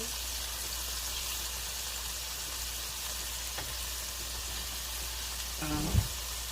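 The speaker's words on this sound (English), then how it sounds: "I started the frying the fish" Steady, even sizzling of fish frying in hot oil throughout, close up, with a brief clatter near the end.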